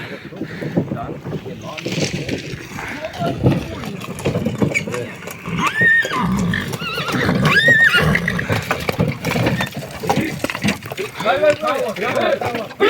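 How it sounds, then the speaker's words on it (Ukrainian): Horses whinny amid a busy outdoor scene, with hoof and harness clatter and several people talking loudly over the animals as young mares are harnessed and tested. "Їде ще пара коней."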